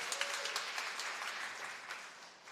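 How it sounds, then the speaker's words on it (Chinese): A church congregation claps hands during a Sunday worship service, a quiet, fairly distant patter of applause that gradually thins out. "拍手一下"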